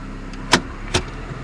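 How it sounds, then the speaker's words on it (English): A 1994 Toyota Corolla shifted into gear with the engine idling, a low steady hum broken by two short sharp clunks about half a second apart. "So I'm gonna put the car in gear."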